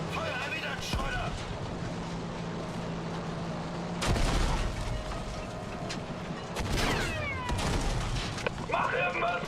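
Gunfire and battle noise from the video game Battlefield V, with loud sharp bursts and heavy booms breaking through sustained combat rumble while voices shout over the action.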